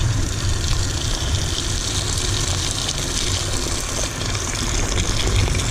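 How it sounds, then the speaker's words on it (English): Hot water from a kettle pours into the cooling system of a Honda CBR250R motorcycle during a thermostat test, a steady, loud, continuous gushing and splashing without a break. "we'll pour some hot water from the kettle and see if it does anything"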